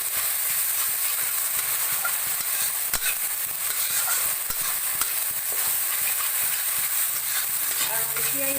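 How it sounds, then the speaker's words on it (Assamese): Ginger garlic paste with turmeric frying in a pan, giving a steady close sizzle and hiss with scraping, clattering stirring strokes throughout. "এই আদা নহৰুখিনি এতিয়া অলপ ভাজিব লাগিব।"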